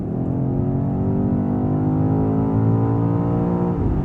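A BMW XM Label Red accelerates hard on the motorway, its engine droning loudly and evenly from inside the cabin as the revs climb smoothly, then easing off near the end.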